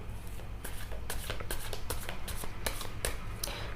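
Tarot cards being shuffled and drawn, a quick run of crisp riffling snaps and soft flicks, close and fairly quiet, with no talk.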